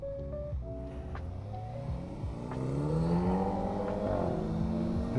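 A nearby vehicle engine revs and accelerates on a sunny Kyiv street, heard from a Kawasaki ZX4RR motorcycle, its rising harmonic drone growing louder through the second half over steady road and wind noise.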